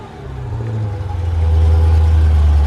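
A 2019 Dodge Challenger Widebody Scat Pack gives off a deep, close exhaust rumble that builds steadily in loudness as the engine note rises, with no voices over it.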